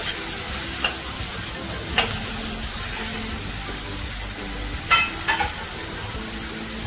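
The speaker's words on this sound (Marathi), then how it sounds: "आता पण भरड पण बरोबर परतून घेऊया लसूण आलं मिरचीची भरड" Coarsely pounded garlic, ginger and green chilli sautéing in a pan for a black-eyed pea leaf dish, a steady even sizzle with a few light taps of a spatula, no talking.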